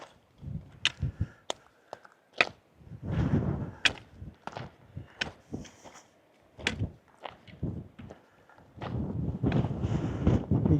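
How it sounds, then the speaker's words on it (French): Gusts of strong wind buffet the microphone on a coastal plateau near Águilas, Spain, in uneven bursts of low rumbling and rustle, with sharp knocks and handling noises between the gusts. "Il y a beaucoup de vent."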